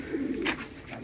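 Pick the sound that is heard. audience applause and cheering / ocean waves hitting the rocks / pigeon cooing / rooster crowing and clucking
pigeon cooing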